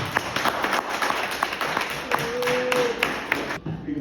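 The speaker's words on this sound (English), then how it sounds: "I just like for y'all to give them a big round of applause." Scattered applause from an audience at a luncheon honoring social workers from the jail, light claps spread across the room with a faint tone and background murmur, fading out at the end.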